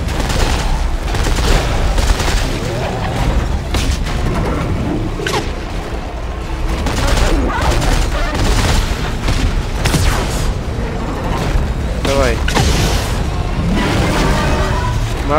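Continuous loud barrage of explosions and gunfire in the video game Dead Space 3, heavy booms and rapid bursts layered together, with occasional brief voices under the chaos.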